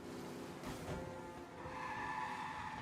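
Tires squeal and skid as a car brakes hard in the video game Mafia, a short screech rising over the running engine drone, close and continuous.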